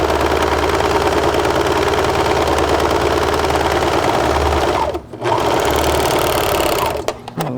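Sewing machine stitching the inseam of pajama bottoms, a loud, fast, steady mechanical hum and rattle running close and continuous, briefly pausing near the end, with no talking.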